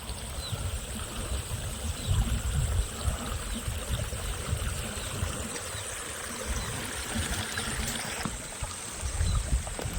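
Water flowing through village fields, a steady outdoor rush and trickle with low gurgling, moderately close and continuous, with no voices.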